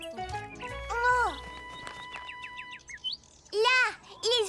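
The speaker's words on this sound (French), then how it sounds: "Là, les oiseaux sont revenus." Birds chirp in a cartoon garden, quick bright tweets and short high trills returning in clusters, heard alongside a voice and other cartoon sounds.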